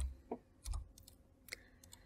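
Keys on a computer keyboard tapped while entering a time into a spreadsheet cell, a few sparse, quiet clicks spread irregularly across a couple of seconds with no talking.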